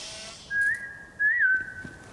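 A character in the Borderlands 3 video game whistles to draw out enemies, two short clear whistled notes with a gliding rise and fall, close and alone over faint background ambience.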